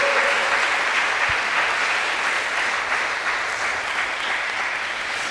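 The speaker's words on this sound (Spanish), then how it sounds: "dale el aplauso bien fuerte a Jesús" A large church congregation applauds steadily and loudly, the clapping continuous and even from start to finish.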